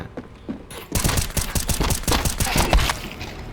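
Dense, rapid gunfire in the video game Counter-Strike 2 erupts after a quiet start and continues as a loud, steady string of overlapping shots to the end.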